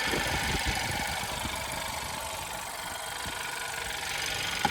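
A 2018 Hyundai Santa Fe with a 2.0 turbo petrol engine idles steadily at close range, a low continuous hum with faint ticking and no voices over it.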